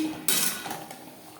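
Taro and potatoes are stirred with masala in a pan: a sharp metal scrape and clank of a spoon against the pan, close up, followed by a softer scraping tail.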